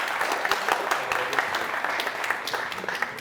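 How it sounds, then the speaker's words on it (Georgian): Audience at a student quiz game applauds steadily, a dense even patter of many hands at moderate distance, continuing without break. "მეგობრებო, აპლოდისმენტებით."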